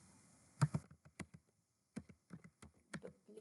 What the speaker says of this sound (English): In this search box type duplicate page